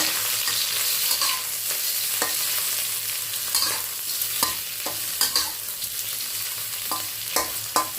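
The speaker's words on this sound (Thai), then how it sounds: "น้ำมันเราร้อนแล้วนะคะ ใส่กุ้งเราไปผัดแล้วค่ะ" Shrimp stir-fried in hot oil in a pan, a loud, close, continuous sizzle broken by scraping stirs and spatula clicks, no voices.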